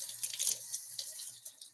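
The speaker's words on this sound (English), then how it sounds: "Actually, let me just rinse my knife off." Kitchen faucet water streams briefly as a knife is rinsed under the tap while corn is being prepared, a soft steady splash close by with no voices.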